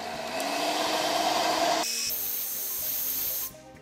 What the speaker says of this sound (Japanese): こういったドライヤーなんかの熱風でチューブを収縮させますスイッチオン